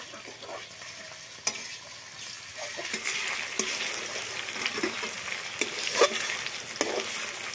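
Garlic and chili sizzle in a hot pan in a rural kitchen, a bright crackling fry punctuated by sharp clacks of a spoon stirring, close up and without talk.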